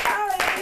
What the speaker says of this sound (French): on va t'applaudir aussi